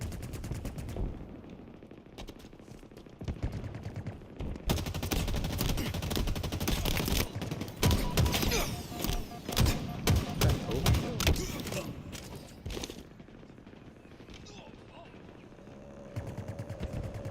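Rapid gunfire from Halo Infinite multiplayer, bursts of automatic shots and heavy impacts piling up loudly through the middle, with quieter stretches of game ambience before and after.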